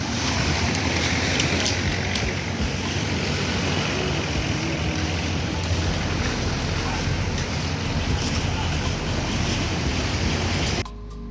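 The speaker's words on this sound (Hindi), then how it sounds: "ये समंदर है हमारा प्राइवेट बीच।" Sea waves washing onto a private beach in Krabi, Thailand after rain, a steady broad roar of surf with wind buffeting the microphone, continuous and fairly close, cutting off abruptly at the end.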